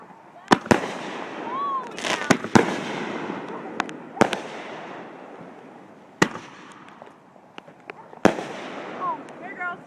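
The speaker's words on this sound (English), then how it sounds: "But they are fireworks." Fireworks burst in a sharp, irregular series of loud cracks and bangs, some near and some farther off, with people chatting and reacting between the blasts.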